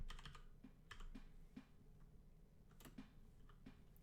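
Typing on a computer keyboard, a run of close, crisp key clicks in uneven bursts with brief pauses, fairly quiet and heard alone without speech.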